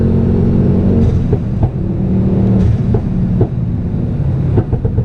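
A Mk2 Ford Focus ST with a cracked liner and suspected turbo trouble revs up to about 5,000 RPM. A loud, close engine roar rises and surges with short dips between pulls.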